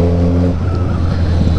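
A heavy Volvo truck roars past close by, loud engine rumble with a steady low drone that fades into broadband road noise.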